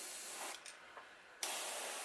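An airbrush spraying yellow paint with the trigger barely pulled, giving a close, soft continuous hiss that dips briefly in the middle and then resumes strongly, without any speech.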